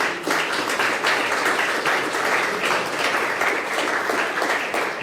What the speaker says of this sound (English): And I want you to applaud yourselves for being part of this group.